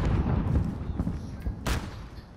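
Bursts of gunfire in Call of Duty Warzone on the Alcatraz map, a cluster of muffled shots and booms with one sharp crack standing out, loud against a rumbling game backdrop.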